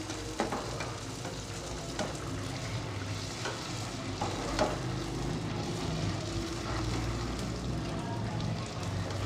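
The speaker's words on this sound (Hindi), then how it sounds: "ये कटिंग हुए गोलगप्पे हम इसमें डालते हैं। इसको बहुत ही एहतियात से फ्राई करेंगे ताकि अच्छे से फूल जाएं।" Cut golgappa (pani puri) dough rounds deep-fry in hot oil, a dense continuous sizzle and bubbling close up with scattered crackles and pops, steady throughout with no talking.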